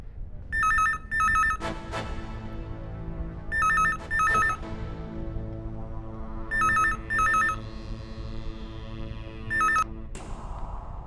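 Repeated electronic telephone ring in paired bursts, four times over a low background hum, with no talk.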